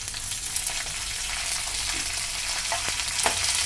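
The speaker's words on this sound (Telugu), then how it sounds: "బాగా బ్రౌన్ రంగు వచ్చేదాకా వేపుకోవాలండి" Urad dal, dried red chilies and curry leaves frying in oil in a pan for an okra dish, a constant close sizzle with occasional stirring clicks, no talking.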